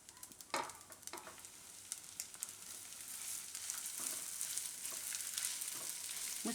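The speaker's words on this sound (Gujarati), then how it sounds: "આ ઘઉંને આપણે ઘીમાં શેકી લેવું થોડીક વાર." Ground wheat roasts in ghee with a soft, low sizzle. A few scraping stirs come early, then the frying hiss settles into a steady, faint sound with no voices.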